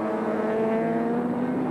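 A race car with a 6-litre V8 engine in a Celica body drones steadily at a distance during a sports sedan race, a continuous buzzing engine tone with no speech.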